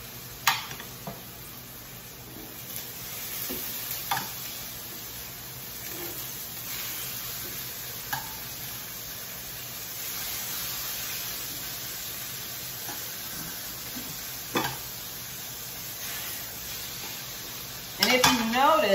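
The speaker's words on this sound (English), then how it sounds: "I'm going to go ahead and put this in this oil. You hear that sizzle?" Seasoned mango chicken pieces laid into hot frying oil in a home kitchen, giving a steady low sizzle with occasional clinks and stirring sounds throughout.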